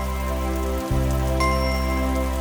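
Steady rain falls throughout without a break, a constant even patter under a low sustained tone, with no voices.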